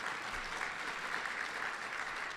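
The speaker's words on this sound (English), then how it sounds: "That deserves a round of applause." Steady applause from an audience at an AI summit, a dense even wash of clapping that holds at moderate loudness for the whole stretch without a break.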